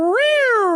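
A man imitates a cat with a single drawn-out meow, rising then slowly falling in pitch, loud and close, lasting under a second.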